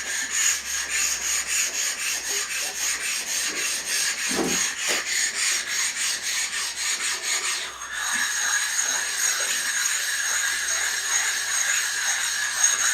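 Steady rhythmic rubbing of a hand tool back and forth over a metal machine bed to knock down small high spots, a dense scraping rasp with even strokes that continues throughout, briefly pausing midway.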